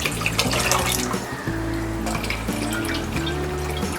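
Water pours steadily from a tap into a cooking pan, about 1.5 litres set to boil for sevai upma, a continuous close splashing fill that rises slightly in tone as the pan fills, with no voices.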